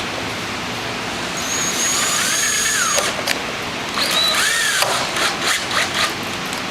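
A power drill drives screws through a bracket into a porch post: two rising whines that strain and stop, each lasting a second or so, over steady outdoor background noise.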